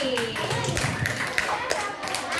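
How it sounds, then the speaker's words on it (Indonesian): Brief bursts of clapping from children in a fourth-grade primary classroom during a lesson on traffic signs, mixed with a teacher's voice and kids' chatter. "Beri tepuk tangan untuk Raffi."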